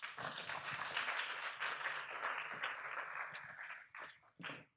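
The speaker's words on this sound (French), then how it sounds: "Vous pouvez encore applaudir nos intervenants." Applause for speakers at a fundraising seminar, dense continuous clapping from an audience that thins out into a few scattered last claps, quiet and somewhat distant.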